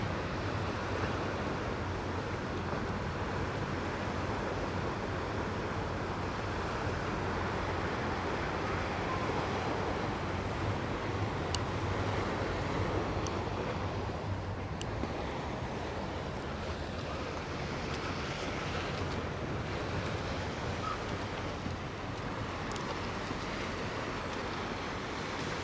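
Waves wash steadily against the riverside at Wapping in London, a continuous broadband surge with wind buffeting the microphone throughout, no voices over it.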